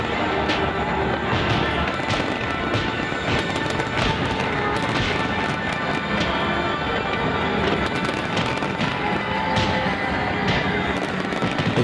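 Fireworks show over the River Neva in rain and cold, heard as a dense, continuous barrage of crackling bursts and booms with no pause, loud and steady throughout.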